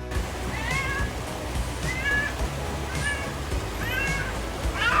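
An orange cat trapped beside a river meows repeatedly, about four rising and falling calls spaced roughly a second apart, loud and close over a rumbling background.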